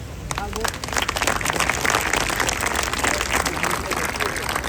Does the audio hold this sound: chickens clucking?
no